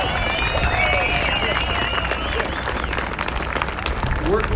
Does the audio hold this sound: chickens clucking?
no